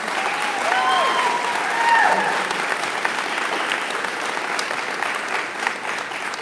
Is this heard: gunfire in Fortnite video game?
no